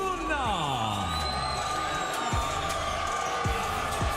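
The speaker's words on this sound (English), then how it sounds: "Nice round of applause for San Francisco's Rowdy Rogelio Luna" Arena crowd at a Bellator MMA event cheering and applauding as fighter Rogelio Luna walks to the cage, a steady dense roar with whoops, while a loud announcer talks over it.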